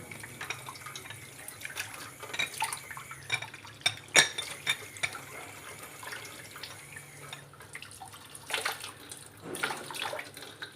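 Water splashes and pours into a container nearby, with clinks of a hard vessel and intermittent bursts of running water.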